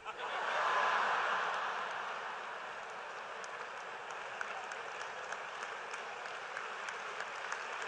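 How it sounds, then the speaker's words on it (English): Broad audience applause from a comedy lecture crowd rises quickly and swells in the first two seconds, then settles into a steady, sustained clapping wash that continues at a slightly lower level to the end. "You notice where the applause is coming from"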